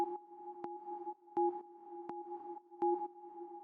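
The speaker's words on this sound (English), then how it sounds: "this little drone chord thing, which sounds like this" A quiet, sustained synthesizer drone chord for a minimal techno track holds two steady tones, with soft clicks repeating at an even pace.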